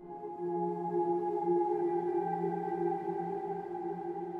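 A fully wet Cloud Seed reverb forms a big, washy sustained pad of steady layered tones that holds evenly, then fades slightly at the end.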